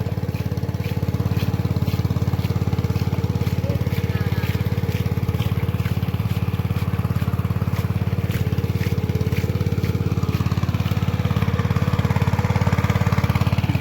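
Two motors run together in a continuous, loud, low droning hum that holds steady from start to finish, with faint clattering layered over the engine noise.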